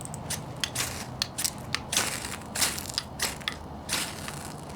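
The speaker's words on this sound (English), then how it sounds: "Let's try the ferro rod." A ferro rod struck to relight a fire in dry tinder, giving a series of sharp, scraping crunches in uneven bursts, close and fairly loud with no talking.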